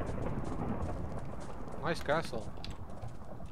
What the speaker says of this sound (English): Thunder.